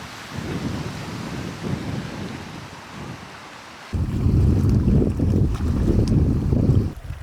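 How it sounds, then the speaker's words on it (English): Stormy wilderness weather on a remote northern canoe route: steady wind roar and rumbling low buffeting, with wind noise hitting the microphone, growing noticeably louder and stronger midway, no voices. "Bad storm last night. And it's still coming on strong."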